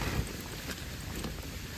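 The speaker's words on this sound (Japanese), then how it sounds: "風が強いです" Strong wind buffets a tent pitched on a mountainside during a stormy overnight camp, a steady roaring rush with low rumbling gusts, loud and close throughout.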